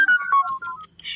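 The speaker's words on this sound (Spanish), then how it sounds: "ya empezó las notificaciones" Several electronic phone notification tones chime one after another, bright and close, with short beeps stepping down in pitch before a brief buzzy burst at the end.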